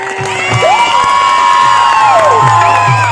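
A village audience at a folk stage show roars and cheers, loud and close, with shrill whoops and shouted voices rising over the crowd noise and only faint clapping.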